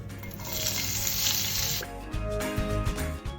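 Shallots sauté in coconut oil for a mussel roast, a close sizzling hiss that drops off partway as stirring knocks and scrapes take over.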